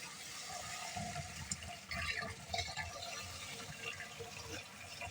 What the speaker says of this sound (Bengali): দুই লিটার পানি ঢেলে রাখলাম